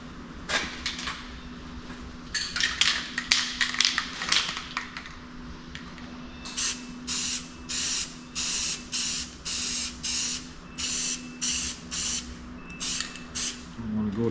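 Spray paint hisses through a milepost sign stencil in short bursts, a dozen or so even blasts at a steady rhythm after some irregular early sprays, close and clear over a low background hum.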